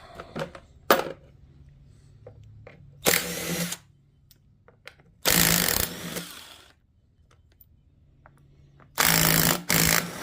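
Short bursts from a pneumatic impact gun pulling bolts during engine removal on a 1996 Sea-Doo SPI, four loud rattling bursts separated by pauses with faint clinks and shop noise between.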